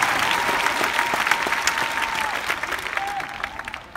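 Steady applause fills a church sanctuary as a Wednesday Bible study congregation claps together, a broad, even roar of many hands that tapers slightly near the end.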